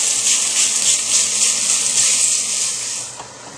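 Italian sausage cooking in a pan for lasagna, a steady loud sizzle and hiss of fat and liquid that holds even throughout and eases slightly at the end, with no voices.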